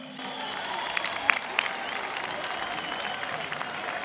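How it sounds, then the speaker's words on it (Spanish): An outdoor crowd claps and cheers at the opening speech of Leganés's Butarque festival, a broad wash of applause with a few sharp whistles and shouts early on, some voices mixed in. "que recibáis con un fortísimo aplauso a Claudia Traisac"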